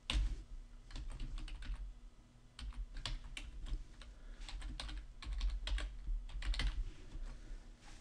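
Fingers type a password on a computer keyboard in quick irregular bursts of close, crisp key clicks, with short pauses between runs; no talking.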